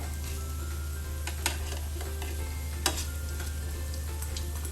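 Water lily and potato pakoras fry in hot oil with a steady, dense sizzle and crackle, broken by two sharp clicks; no talking.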